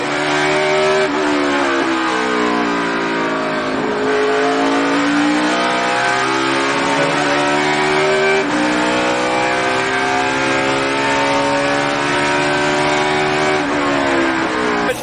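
Stock race cars roar past loudly on a road course, engines revving and shifting pitch through corners in a continuous, close-up wall of motor noise.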